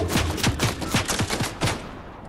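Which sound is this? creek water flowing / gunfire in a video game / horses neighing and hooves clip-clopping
gunfire in a video game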